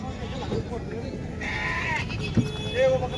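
Sheep and goats, including Barbari goats, bleating amid a busy crowd at a weekly livestock market in Loni, with people talking throughout; a few short bleats stand out near the middle and end.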